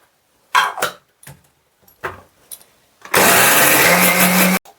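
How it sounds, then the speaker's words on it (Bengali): Mixer grinder grinding lentils for fritters: a few short knocks and clatters, then the motor starts with a loud, steady high whine for about a second and a half before stopping abruptly. "চলো বড়াটার জন্য এটাকে ভালো করে পিষে নিতে হবে।"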